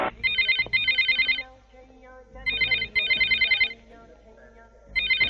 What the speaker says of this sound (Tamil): வேணா சத்ரு, அந்த போன் அட்டெண்ட் பண்ணாதே